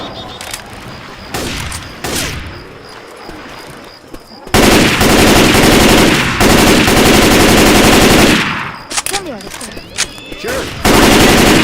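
Machine gun fire in Left 4 Dead 2 during a rainy Hard Rain level, heavy continuous automatic bursts that dominate the middle and close of the clip, with short shots and game voices between them.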